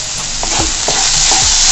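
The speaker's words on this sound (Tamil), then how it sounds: "நல்லா கலந்து விட்டுக்கோங்க" Paneer stuffing being stirred in a frying pan over a loud, steady sizzle, with a few soft scraping strokes of a spatula close by.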